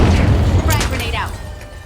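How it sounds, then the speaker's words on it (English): Frag grenade going off in The Finals, a deep close boom that rolls off into a fading rumble, with a commentator's voice talking over it. "Frag grenade out"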